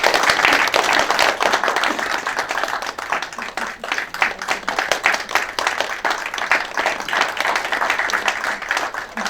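Audience clapping at a year-end tea gathering award ceremony, dense sustained applause throughout, swelling slightly and staying steady.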